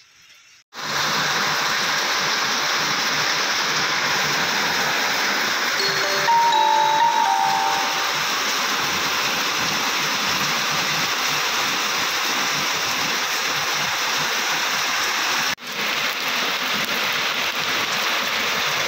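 Heavy rain pours steadily outside a shop in a broad, continuous hiss that holds loud and even for most of the stretch, with a few faint tonal chimes briefly rising above it.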